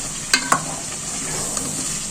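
Onion and tomato paste frying with beef in a pan for a beef curry, giving a steady sizzle with two sharp spoon clinks near the start and light stirring scrapes throughout.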